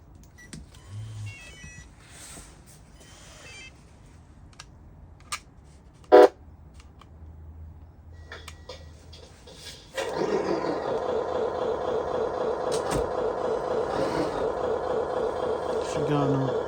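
A new Lesu 1/14-scale RC truck: faint clicks and small knocks at first, then a loud, steady whirring drive sound starts about two-thirds of the way in and holds to the end.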